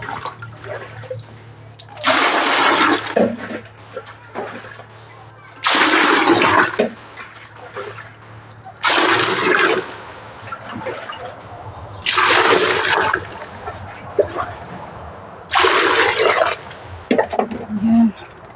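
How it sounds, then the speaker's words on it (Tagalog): Rainwater is scooped and poured into a bucket in five separate bursts of splashing, each a couple of seconds long and close by, with quiet stretches and brief speech between pours. "Kabo muna tayo ng tubig."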